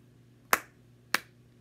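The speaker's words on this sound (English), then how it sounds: "I want you to clap that word with me." Two sharp, close hand claps about half a second apart mark out the syllables of a word in a quiet room during a children's penguin book lesson.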